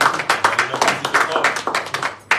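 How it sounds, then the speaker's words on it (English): Audience applause at a credit union presentation to a development group in Marigot, dense overlapping claps in irregular bursts, fairly close and moderately loud, with a final sharp burst near the end. "I think that deserves a round of applause"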